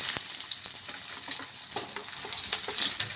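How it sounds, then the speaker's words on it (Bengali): Chopped onion frying in mustard oil, a close, dense hiss of sizzling with scattered pops and light stirring clicks across a few seconds, no one speaking. "পেঁয়াজ কুচি,"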